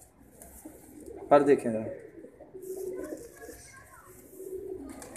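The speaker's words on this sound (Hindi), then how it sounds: "बहुत बड़ा कबूतर है।" Pigeons coo softly nearby while someone talks over them.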